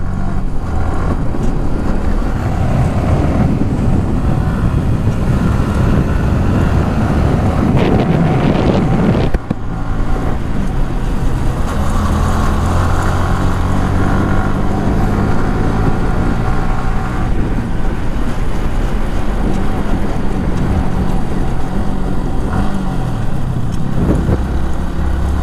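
A motorcycle ride with steady, loud wind buffeting over a continuous engine drone, no voices, lasting the whole stretch.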